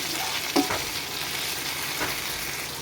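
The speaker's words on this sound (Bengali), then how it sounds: "সব একসাথে ভাজা ভাজা করতে হবে।" Chopped tomato and green chilli fry with eggs and potatoes in a pan, giving a steady, close sizzle with a couple of soft stirring scrapes and no talking.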